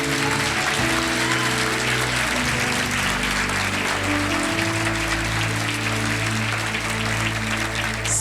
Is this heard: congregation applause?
yes